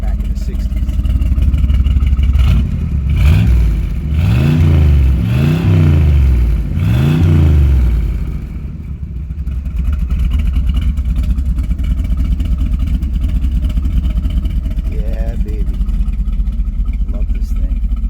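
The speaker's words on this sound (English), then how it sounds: "this is what a big block sounded like back in the 60s" A 1969 Chevrolet Corvette Stingray with a 427 big-block V8 blips its throttle in four loud, rumbling revs, then settles into a lumpy, steady idle close by.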